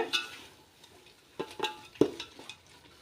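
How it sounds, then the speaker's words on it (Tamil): Mutton biryani masala being sautéed with handfuls of coriander and mint leaves, heard as a few close scrapes and clinks of a spoon stirring in a pan over a faint sizzle, with no talking. "நல்லா வதக்கி விட்டுக்கோங்க"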